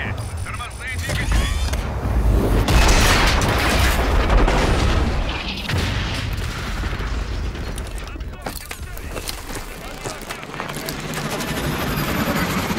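In Call of Duty: Advanced Warfare, a craft makes a hard landing on braking thrusters: a loud, roaring, rumbling rush with mechanical clanks and booms, with voices talking throughout.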